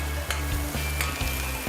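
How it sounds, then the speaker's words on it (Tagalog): Onions and garlic sautéing as aromatics in a pan for a santol fish curry, a steady close sizzle with soft stirring scrapes breaking through at intervals. "Pwede na tayo mag-isa ng ating aromatics."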